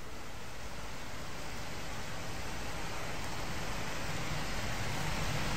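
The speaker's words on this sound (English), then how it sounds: "And you get more waterfalls." Rushing waterfall in the video game Sky: Children of the Light, a steady broadband wash of falling water that holds even and unbroken throughout, with no voices over it.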